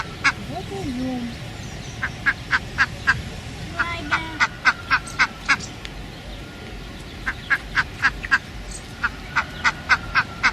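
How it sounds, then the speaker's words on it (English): A duckling quacks in quick, short, evenly spaced calls that come in runs over a steady outdoor background, with a brief low voice near the start. "Duckling."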